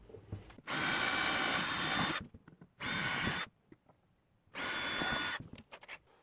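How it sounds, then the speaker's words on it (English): A power drill drives screws to mount the fuel tank of a 5–8 kW diesel heater, sounding in three loud, close bursts of steady whirring separated by short pauses with light handling clicks. "So I'm going to run these screws into the holes first"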